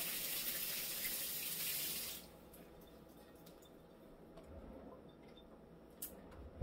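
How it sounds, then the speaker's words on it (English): A kitchen tap runs steadily while hands are washed before seasoning a Cornish hen, then shuts off after about two seconds, leaving a quiet room with faint clinks and a final sharp knock. "We're gonna wash our hands real quick"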